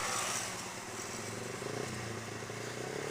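Motorcycle engine droning steadily while riding with friends on the road and overtaking, a faint continuous rumble under wind noise.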